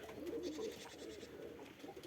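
Pigeons coo in a brief, low, soft burst at close range, with faint background noise.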